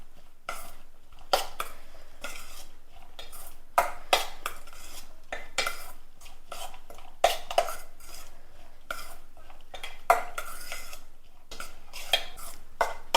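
A spoon mixes a cheese and sweet corn sandwich stuffing with chopped coriander in a bowl, making repeated close clinks and scrapes in an uneven rhythm, each followed by soft shuffling, with no talking.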